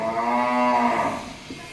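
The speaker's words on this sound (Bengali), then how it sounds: "এই যে চারিদিকে শুধু গরু।" A single drawn-out cow moo in a cowshed, close and loud, with a rich low harmonic tone that sustains before tapering off, with no talking.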